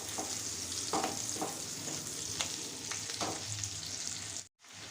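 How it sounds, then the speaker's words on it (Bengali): Square-cut chicken pieces lightly frying in a pan for restaurant-style chilli chicken gravy, a continuous close sizzle broken by several scraping stirs, cutting out briefly near the end. "এইটাকে আমি হালকা করে ফ্রাই করে নেব।"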